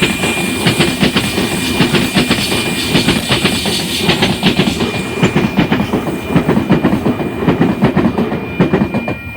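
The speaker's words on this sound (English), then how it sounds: "It is an Oscar train." A Sydney Trains Oscar H-set suburban train passes close by a station platform, with steady, loud rhythmic clickety-clack of wheels over rail joints and a broad rumble and hiss throughout.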